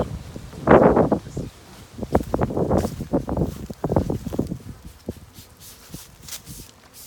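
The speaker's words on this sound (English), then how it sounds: "As you can tell, it's pretty windy out here too." Gusty wind rustling through leaves outdoors while catching bee swarms, rising and falling in bursts, strongest early on and easing toward the end, with no voices.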